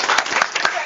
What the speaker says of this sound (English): So one more round of applause for her.